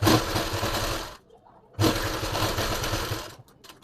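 A sewing machine running a long basting stitch on a pleated suit whirs in two close bursts, about a second each, separated by a short pause, with no voices.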